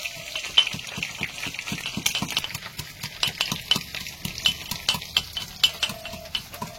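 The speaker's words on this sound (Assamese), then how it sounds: "ইয়াতে আদা নহৰুখিনি খুন্দি লওঁ" Ginger and garlic pounded by hand, a steady run of dull, close knocks in an uneven rhythm with a faint wet, gritty texture under each strike, no voices.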